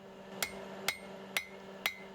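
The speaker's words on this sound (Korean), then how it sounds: "쇠를 달구고 망치로 두들겨서 모양을 잡아나가는 것은 여느 대장간 작업 과정과 다를 바 없다" A blacksmith in a traditional Malacca forge hammers heated iron, four sharp ringing metallic strikes at an even, steady rhythm, clear and alone with a faint background hum.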